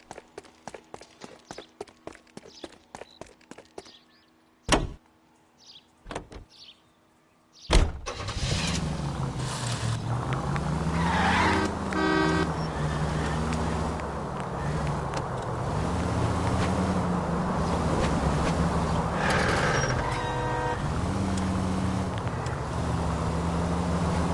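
In the L.A. Noire video game, a car engine starts after a few clicks and sharp bangs, then drives on loudly and continuously, its pitch rising and falling as it revs and skids, with no talking.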